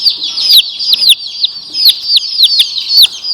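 Day-old female Barred Rock chicks, just arrived by mail in a warm box, peep constantly in shrill, rapid overlapping chirps close by.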